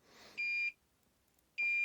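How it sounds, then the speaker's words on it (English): Toptes CT-580 carbon monoxide detector sounding its alarm: two loud, steady electronic beeps, each about a third of a second long, separated by a pause of roughly a second, heard alone and close. "The beeping is slower"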